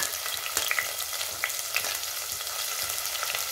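Onion, green chillies, curry leaves and ginger-garlic paste fry in hot oil for a spinach and beans curry, giving a steady close sizzle with a few soft clicks of the spoon against the pan, no voices.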